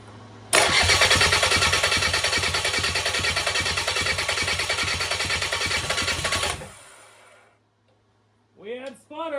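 Rebuilt Kubota diesel engine in a fire-damaged Bobcat 7753 skid steer cranks and sputters loudly for about six seconds with a rapid uneven chugging, then cuts out, followed by a brief voice.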